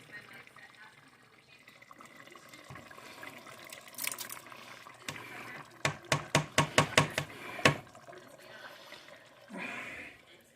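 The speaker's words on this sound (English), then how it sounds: "Drain the San Marzanos into a small strainer here" Canned San Marzano tomatoes drain into a small strainer, a soft liquid pour with a burst of sharp clattering knocks in the middle, close by and fairly loud.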